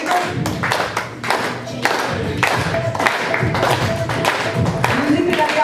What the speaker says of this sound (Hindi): अच्छी वाली ताली बजाइए।